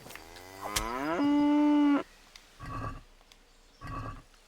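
Cow mooing in the medieval game Kingdom Come: Deliverance: a long, loud, drawn-out moo with glitchy, distorted harmonics, followed by two shorter, fainter lowing calls spaced apart.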